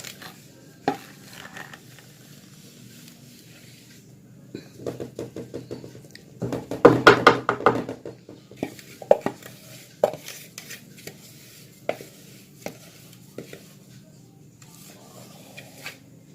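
Dough ingredients are mixed by hand in a bowl in a home kitchen: scattered soft scrapes, knocks and clatters of utensil against bowl, with a busier burst in the middle over a quiet background.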